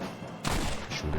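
Gunfire in the Red Dead Redemption video game while shooting a sniper: a sharp burst of shots cracks in after a low rumble, then rolls into a dense echoing volley that fades and flares again.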